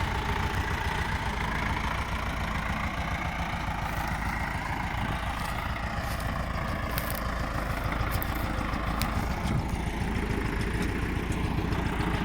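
A farm vehicle carrying a sprayer drives out to the raspberry fields, its engine holding a steady, unbroken drone at a moderate level with no voices.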